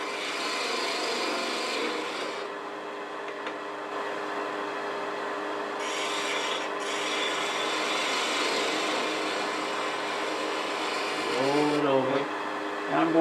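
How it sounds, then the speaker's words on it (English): Continuous rasping and scraping of a detail gouge cutting spinning wood on a lathe, steady and close, with a brief change in tone near the end. "I'm going to come in here with this detail gouge, just work my way in there"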